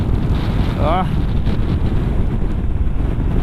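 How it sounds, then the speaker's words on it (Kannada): Strong wind roars and buffets close to the microphone throughout, a constant loud rumble with a brief tonal sound near the start. "ಸಿಕ್ಕಾಪಟ್ಟೆ ಗಾಳಿ ಹೊಡಿತಾ ಇದೆ"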